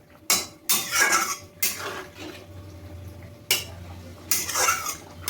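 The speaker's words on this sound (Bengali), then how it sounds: "এবার আমি পনিরটাকে দিয়ে ভালোভাবে নাড়িয়ে নেব।" A utensil scrapes and clatters in a pan as fried paneer is stirred into potatoes, with several bursts of stirring separated by short pauses, close and fairly loud with no talk.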